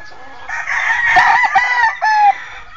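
A young rooster crows once, close and loud, in a strained, rising and wavering call lasting about two seconds with a harsh final note.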